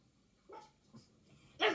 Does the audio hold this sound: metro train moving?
no